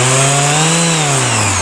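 A Makita BO5041 random orbit sander running at fast speed, giving a loud, steady, close-up motor whine with a faint pitch drift and no talking.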